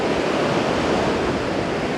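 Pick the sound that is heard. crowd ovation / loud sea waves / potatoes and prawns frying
loud sea waves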